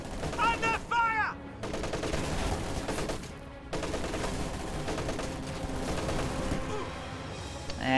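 Dense gunfire and rapid machine gun bursts from a World War II strategy game, loud and sustained throughout, with brief whistling tones near the start.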